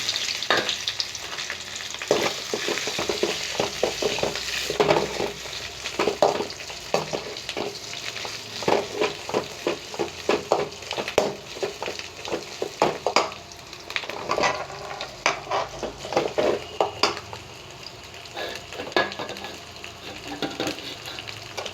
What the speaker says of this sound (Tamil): அது ஃப்ரை ஆனதும் உருளைக்கிழங்கு போட்டுக்கணும்